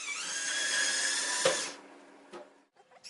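A power drill whines steadily and close while backing screws out of an LG dryer's front panel, then cuts off, followed by a brief second burst and faint clicks.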